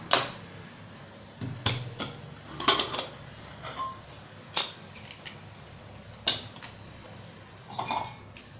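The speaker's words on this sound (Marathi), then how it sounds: "आपण आता झाकण उघडूया।" A pressure cooker lid comes off after cooling, heard as several sharp metallic clanks and clicks of the pot and lid at close range, spaced irregularly over a quiet background.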